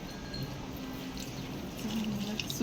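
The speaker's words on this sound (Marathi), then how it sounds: "मस्त असं पाणी देणं चाललंय" Water pours onto potted garden plants, a faint, continuous trickling and splashing heard close up with no talking.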